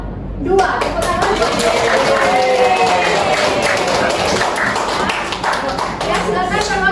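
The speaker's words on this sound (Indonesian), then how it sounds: "Tepuk tangan." Students clapping together in a classroom, a loud, dense, continuous round of applause from a nearby group lasting several seconds, with a few voices mixed in.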